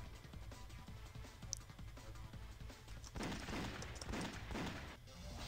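Magnum gunfire in the 2006 game Chaos Faction, quiet, rapid blasts with a denser burst of crashing shots in the second half over low background game noise.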